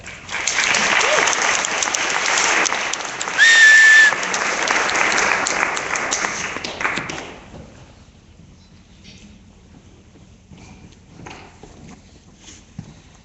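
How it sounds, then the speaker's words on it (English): A large crowd at a talk on GMOs gives a speaker a big round of applause, loud sustained clapping for about seven seconds that then stops, leaving quiet room noise with faint movement. "Let's all give a big hand of applause to Ann Slater."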